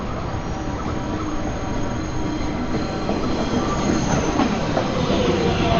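A Manhattan-bound 2 train on the NYC subway runs steadily, its loud, dense rumble filling the car along with rolling wheel noise and faint squeals, building slightly louder toward the end.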